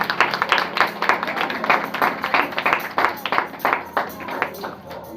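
Loud congregational clapping at a Sunday prayer service, a dense, steady rhythm of many hands beating together for several seconds, close and filling the room.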